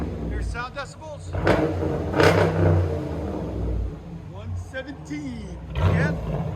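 A Dodge Durango RT engine revs hard through an aftermarket muffler, with several loud surging rises and falls close by; people talk in between.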